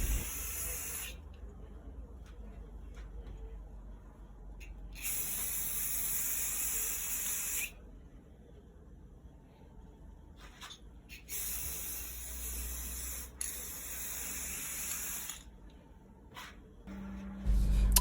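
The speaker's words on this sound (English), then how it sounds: "We're just spray painting some things that we have found around the house" Bursts of aerosol spray paint coating household objects in metallic silver, several long hissing sprays of a few seconds each separated by quiet gaps and faint handling sounds, close to the listener.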